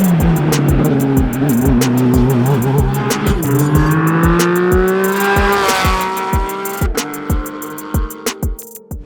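Race car at the Pikes Peak International Hill Climb, its loud engine revving and shifting up through the gears while passing close, with tyre squeal and a rapid run of sharp pops and clicks near the end.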